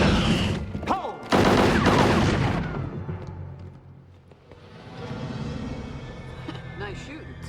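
A burst of rapid gunfire, loud and close, breaks out among men under fire in a B-movie creature shootout, then fades to a rumbling tail with scattered noise.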